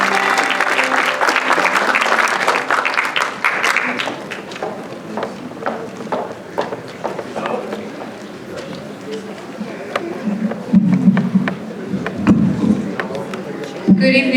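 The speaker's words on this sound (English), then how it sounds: "please give a round of applause for Miss Sky" A community audience at a Haitian cultural celebration applauds as the performer Miss Sky comes out. Dense, loud clapping at first thins into scattered claps and crowd murmur, then swells again near the end.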